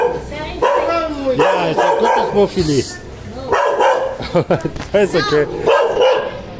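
A dog encountered during an evening visit in Metro Manila barks and yips in short bursts between and over stretches of close conversation, with people talking throughout.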